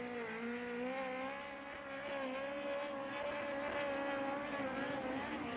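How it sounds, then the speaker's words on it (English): A Speedway Toyota engine in a USAC midget race car at Red Dirt Raceway, revving high and steady as it runs down the front straight, rising slightly in pitch, loud and sustained. "He's got the old Speedway Toyota singing down the front chute."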